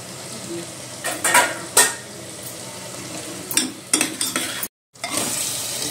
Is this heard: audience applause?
no